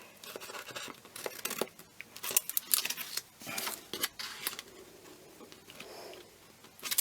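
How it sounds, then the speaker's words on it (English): Scissors snipping through paper to cut out a shape for handmade ephemera, close and crisp, with irregular clusters of short cuts and rustling paper handling between them. "I'm just going to cut down the shape."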